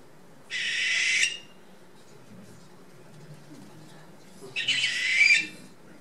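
Two harsh, hissing barn owl screeches, each about a second long, separated by a few seconds of quiet rustling background.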